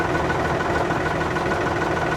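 Small New Holland tractor with push-button start, its engine idling in a steady low rumble that is dense and continuous at close range, with no talking over it.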